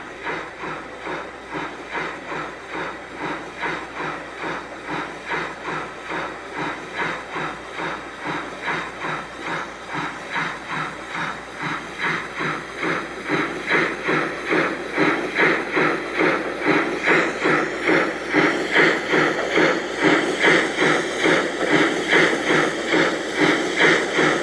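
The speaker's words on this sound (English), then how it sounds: "Coming into the station was Pen" A steam locomotive, named Pen, chuffs into Armandale station with a steady rhythmic beat and hissing steam, growing louder and closer toward the end, with no voices.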